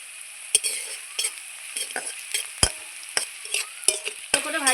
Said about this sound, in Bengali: পেঁয়াজটা দেখুন আমি কত সুন্দর লাল লাল করে ভেজে নিচ্ছি